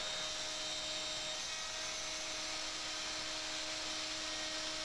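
A router cutting along the laminate edge of a woodworking workbench during a vise installation gives off a steady, loud, high-pitched whine that holds unbroken from start to finish, with no talk.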